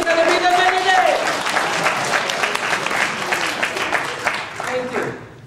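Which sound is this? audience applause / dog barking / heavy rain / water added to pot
audience applause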